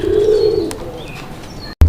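A low, steady coo from a male Raj-gola pigeon at a pigeon farm rumbles early on, with faint chirps over it and a brief thump near the end.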